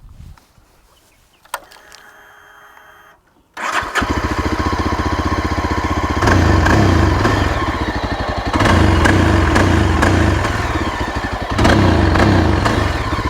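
A Yezdi Adventure motorcycle engine with a single exhaust starts after a brief mechanical whir, then idles with a steady, throbbing exhaust rumble that swells slightly a few times.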